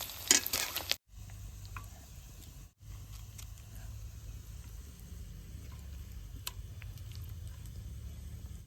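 Leaf fritters made from shefali (night jasmine) leaves frying in hot oil in a village kitchen, a steady low crackling sizzle with a few utensil clinks and brief breaks after a louder scrape at the start.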